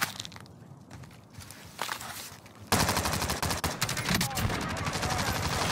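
Gunfire fills a round of Call of Duty Warzone: scattered shots and footsteps first, then from the midpoint dense, loud bursts of small-calibre automatic fire with sharp rapid cracks.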